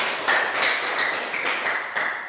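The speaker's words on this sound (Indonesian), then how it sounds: "kita beri tepuk tangan dulu" Classroom applause breaks out during a teacher's practice lesson, a steady, dense patter of many hands clapping close by with no voices over it.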